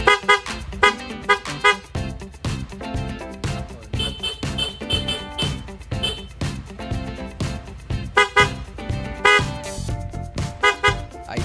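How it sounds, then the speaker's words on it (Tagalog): A loud aftermarket Takimoto motorcycle horn honks repeatedly in short and longer blasts, with brief gaps between them and some engine noise underneath. "Loud horn."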